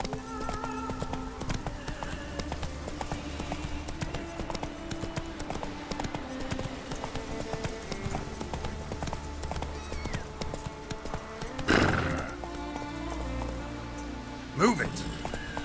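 Horse hooves clip-clopping at a gallop in The Witcher video game, a steady rhythmic beat running under game music and voices, with rain falling and a short burst of louder action sounds near the end.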